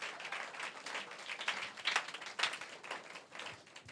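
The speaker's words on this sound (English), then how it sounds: "I'm just getting few claps." Sparse applause from a conference audience celebrating honorees, a thin scatter of claps with a few louder bursts, fairly steady over a few seconds with no talk.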